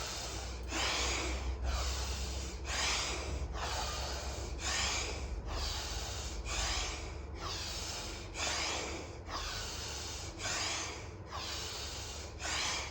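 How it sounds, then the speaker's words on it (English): Slow deep yoga breaths, a rhythmic series of strong inhales and exhales through the nose, about a dozen even cycles, close and alone. "Inhale, exhale. Inhale, exhale."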